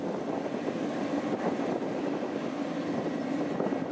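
A Yanmar YH850 combine harvester with a 4TNV98 engine runs on tracks through a field in the rain, giving a steady, loud mechanical drone and rumble with no talk.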